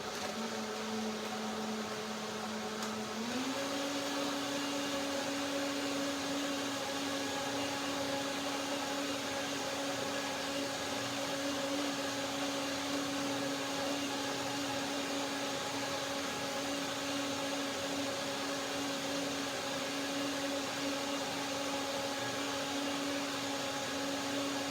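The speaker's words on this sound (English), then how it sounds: "I do one more blending to get the nice creaminess I desire." A powerful countertop blender whirs steadily while blending almonds, banana and water into milk; the motor pitch rises sharply a few seconds in, then holds a loud, continuous hum to the end with no talking.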